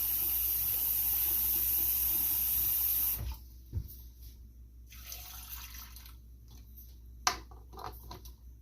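Hot water pours steadily into quart glass jars of fresh green beans for home canning, a loud close gush that stops after about three seconds, followed by sparse drips, clinks and small knocks.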